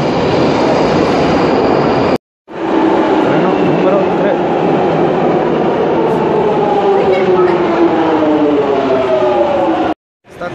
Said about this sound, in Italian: Train number 2.